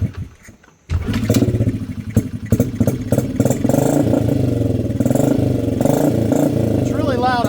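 A Honda CRF 50 dirt bike running with no silencer and a flat back tire barks to life after brief quiet, then keeps up a loud, rapid, popping idle, with a voice speaking over it.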